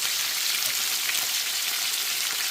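Aubergines, courgettes, peppers, garlic and onion frying in a pan over a gas flame make a soft, even sizzle, steady and moderately quiet throughout, with no talk.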